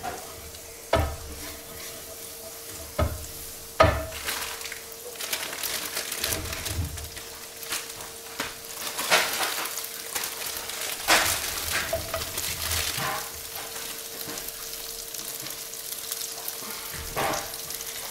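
Minced garlic and red pepper flakes sizzle steadily in butter and olive oil in a pan, a close, continuous crackling fry with occasional sharp knocks and stirring scrapes.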